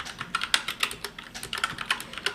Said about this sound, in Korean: 자, 이렇게 영문으로 타이핑할 수도 있습니다.